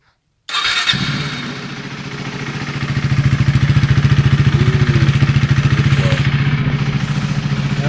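A 2020 KTM Duke 390 motorcycle cranks and fires up, then settles into a loud, close, rhythmic single-cylinder idle that gradually builds to a steady, even throb.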